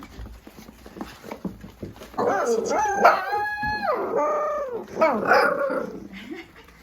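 Puppies howl loudly nearby in rising and falling wavering howls, with some yips mixed in and faint background chatter before they start.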